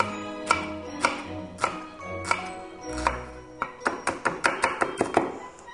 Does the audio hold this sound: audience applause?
no